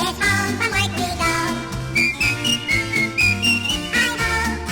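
A bright whistled melody rides over a bouncy band accompaniment with steady bass and chords, the tune moving in short lively phrases from start to finish.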